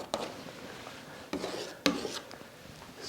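A painting scraper drags paint across a large seascape canvas in three short rasping strokes, each a brief scrape with a soft tail, close and fairly quiet with no talk.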